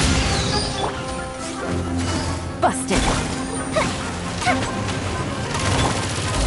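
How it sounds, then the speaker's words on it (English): Firework explosions in the Genshin Impact video game crackle and boom in a dense, continuous barrage, with repeated sharp bursts over loud game sound and a voice speaking briefly. "Here comes the fireworks!"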